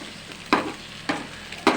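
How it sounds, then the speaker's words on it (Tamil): An omelette cooks in a pan as a spoon stirs and scrapes it, three distinct scraping strokes about half a second apart over a soft, steady sizzle; close and moderately loud, with no voices. "கிண்டு, மெதுவாக கிண்டு. ஆம்லேட் போட்டு பழகிட்டு இருக்கேன்."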